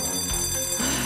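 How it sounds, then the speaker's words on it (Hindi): A bright, sustained school bell rings loudly with a sharp ringing tone throughout, its harmonics shimmering without pause. "घंटी बज गई।"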